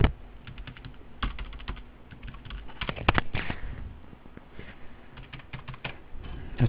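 Accounting figures are keyed into a computer keyboard in quick, uneven bursts of clicky taps, with a few louder keystrokes, close up and free of talk.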